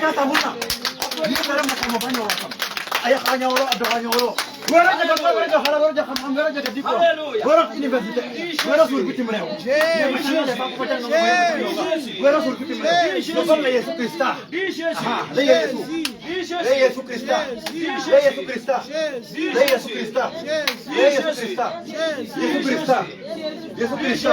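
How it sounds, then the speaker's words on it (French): A revival crusade rally congregation claps for Jesus. Sharp, scattered hand claps run under loud, continuous voices and chanting for the whole stretch. "Applaudis pour Jésus"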